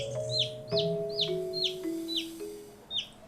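A cartoon hen clucks in a quick repeated series of short, bright calls, about six in a row, over a faint sustained musical tone.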